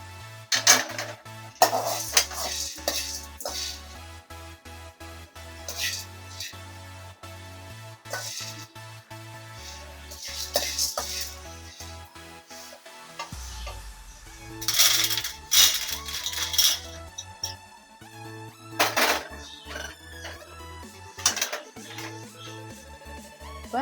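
Chana dal and coriander seeds dry roasting in a pan give off irregular dry rattles and clinks as they are stirred, over a soft tonal background.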